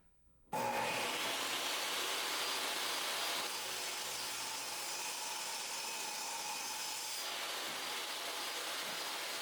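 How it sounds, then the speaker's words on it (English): A miter saw cuts small wood pieces for a tray, a loud steady whining cut starting abruptly after a short quiet moment and holding for several seconds. "The pieces that are too long, I'm cutting with the miter saw."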